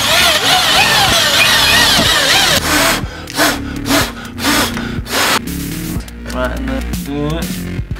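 A drill bites into colored pencils, giving a loud, close, grinding whine for about three seconds, then several shorter rough bursts with pauses as the boring continues.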